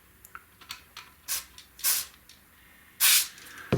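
Short hissing bursts of contact cleaner sprayed into a potentiometer on a 25-inch K7500 arcade monitor, several quick spurts of varying length with a longer final blast, close up with no talk.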